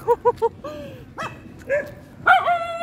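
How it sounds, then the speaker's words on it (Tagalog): A dog gives three quick yips, then several louder barks and whining yelps follow at close range, irregular and sharp. "May mga aso."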